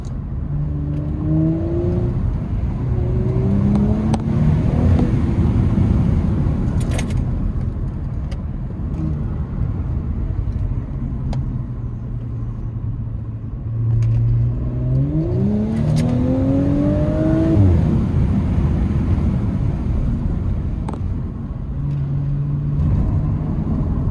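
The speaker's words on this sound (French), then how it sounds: "dès qu'on enquille et qu'on accélère, entendre le V6 et le moteur" An Audi S5 coupé's 3.0 TFSI V6 engine revs up and accelerates repeatedly, a steady rumble rising in pitch twice, heard from inside the car with road noise throughout.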